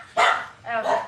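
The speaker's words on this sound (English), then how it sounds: "That's my vicious attack dog." A dog that is half coyote gives two close, loud barks that blur into a yelping, whiny tone, the second drawn out and wavering.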